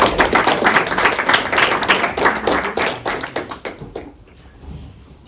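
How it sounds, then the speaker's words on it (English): Applause from the audience at a school career day engineering panel, with dense clapping that thins and tapers into a few scattered claps before fading out. "Let's give a round of applause for our presenters"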